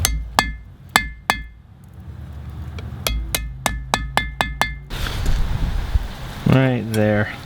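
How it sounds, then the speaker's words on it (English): A hammer forges hot steel into a pipe tool, ringing metallic blows, single strikes then a quick run of evenly spaced hits, loud and close, followed by scraping and a brief hiss. "I just am going to hammer in those edges."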